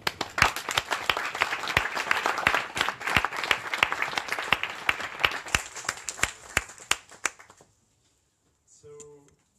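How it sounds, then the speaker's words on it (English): An audience at an online-offline event in Brussels gives warm applause, many sharp claps in a lively burst that thins out and stops, followed by quiet and a brief faint sound at the end. "Warm applause to Marie and what she does"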